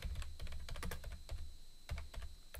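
A computer keyboard is typed on close by while names are entered into a class list spreadsheet, giving quick irregular bursts of clicky keystrokes at a fairly quiet level with brief pauses between runs, and no talking.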